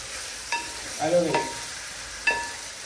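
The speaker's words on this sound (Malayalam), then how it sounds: "എന്നിട്ട് നമ്മൾ നന്നായി ഇളക്കി കൊടുക്കണം" Food stirred in a pan over a soft sizzle, with a few sharp scrapes of the spoon against the pan standing out from a quiet, steady frying hiss.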